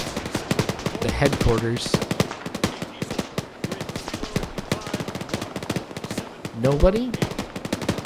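Bursts of automatic rifle and machine gun fire from a squad engaging enemies in Arma 3's Second Korean War setting, rapid cracks running throughout at mid distance, with someone briefly speaking over the shooting.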